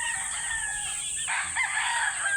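A stag gamecock crows once, close and loud, a long strained call that breaks into a rougher second half, with faint background noise.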